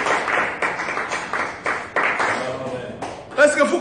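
Congregation at a Sunday church service clapping in rhythmic bursts, with a preacher's voice talking over the applause.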